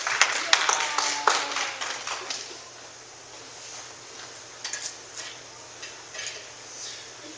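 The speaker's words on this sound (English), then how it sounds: "Round of applause." Brief, light applause from a small church audience, a few sharp claps at first that thin quickly into sparse, soft claps over a low steady hum.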